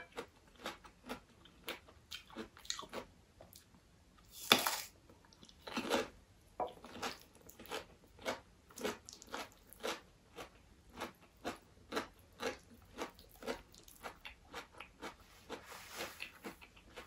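Close, crisp crunching bites and chewing of khanom jeen noodles in coconut curry with dill, heard as a long series of sharp, irregularly spaced crunches with one louder burst partway through.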